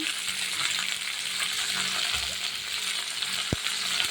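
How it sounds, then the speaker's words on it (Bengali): Chopped vegetables with shrimp stirred in a pan for a pui bituli dish, a steady soft frying hiss with faint scraping and one sharp knock near the end, no talking. "এবার নেড়ে চেড়ে আমি দিয়ে দেবো লবণ হলুদ"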